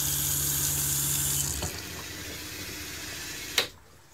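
Hot water runs steadily from a tap inside a shuttle bus converted into an RV, a constant close rushing stream that is cut off with a small clunk near the end, leaving quiet.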